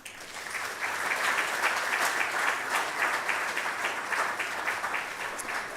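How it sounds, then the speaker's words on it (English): Steady audience applause fills a hall at the inauguration of a genomic medicine building, a dense, even roar of many hands clapping that holds at full strength for several seconds without a voice over it. "A round of applause for him once again"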